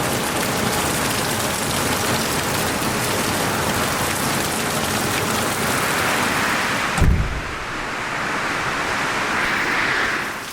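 A hurricane's heavy rain storm roars outside, a dense and constant wash of downpour with a brief low rumble or thump partway through, loud and enveloping, with no voices.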